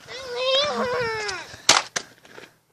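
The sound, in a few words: Nerf toy gun firing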